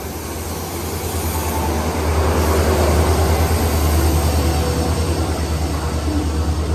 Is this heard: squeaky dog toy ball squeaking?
no